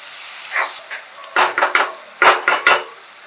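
Two finely chopped tomatoes stirred in a pan for spicy chicken kheema: a few soft scrapes, then two quick clusters of three sharp spatula knocks against the metal, close and fairly loud with quiet gaps.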